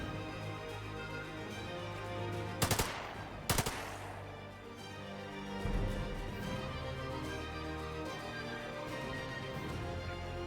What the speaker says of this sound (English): Can you hear the cannons?